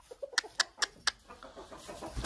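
Chickens cluck in a few short, sharp bursts close by, spaced irregularly over a quiet background with faint rustling.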